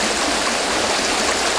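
A river rushes steadily and loudly nearby, a dense, unbroken wash of flowing water with no voices over it.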